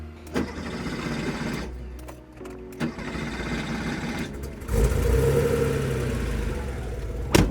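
Classic Porsche 911 engine, never rebuilt and well maintained, running on a road trip; steady mid-level drone with louder bursts and a thicker rumble in the second half, no talk.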